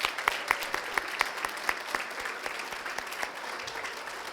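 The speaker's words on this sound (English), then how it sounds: "Would you help me give them a round of applause" An audience at a school anniversary event applauds the teachers and staff: fairly close, brisk clapping from a modest crowd, sharp individual claps standing out and continuing throughout without talk.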